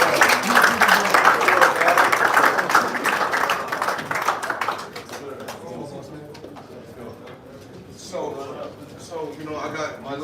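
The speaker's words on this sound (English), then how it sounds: "Round of applause." Dense audience applause at a boxer's press conference in Dubai fills the first half, loud and sustained, then thins out as voices talk over a quieter room.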